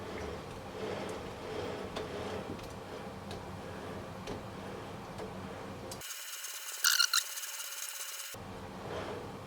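Reamer held in a lathe tailstock cutting a starting cut, a faint, irregular ticking and rubbing scrape under a quiet workshop hum, broken by a brief electronic gap.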